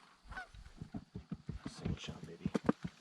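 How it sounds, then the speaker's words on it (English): Geese honk repeatedly in a flurry of short, nasal calls during a North Dakota goose hunt, growing louder and more frequent toward the end, with low voices underneath. "the geese are starting to come in"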